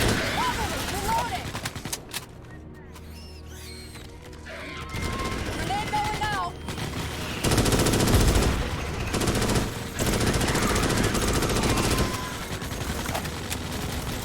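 Gunfire from shooting arachnid enemies in a sci-fi shooter game, bursts of rapid shots that come and go over a busy mix of game effects and music, with a voice speaking at times.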